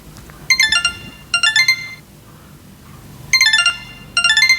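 Redmi Buds 3 Pro wireless earbuds play their finder alert: two pairs of bright, repeating electronic chime bursts separated by a pause, moderately loud and close, with no talking.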